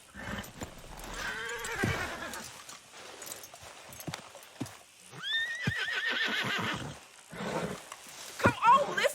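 A horse whinnies and its hooves clop during gameplay of Red Dead Redemption 2, with a voice shouting in complaint over the animal noises, which rise in short bursts throughout.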